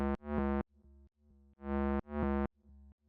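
Tech house bass line sidechained with a tail filter pumps in short bursts, each note ducking at its start and swelling back up, alternating with quieter low notes in a steady loop, alone with no talk.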